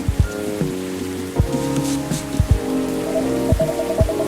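Steady rain falls on a surface in the Coffee Talk game, a continuous wet patter that runs the whole time beneath recurring soft musical tones, with no talking.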